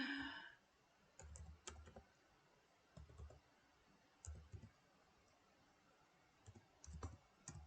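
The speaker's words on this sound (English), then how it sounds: "If I can achieve anything with my typing." Short bursts of typing on a computer keyboard, quick clicking keystrokes in a few separate clusters with quiet pauses between them, faint and close, with no talking.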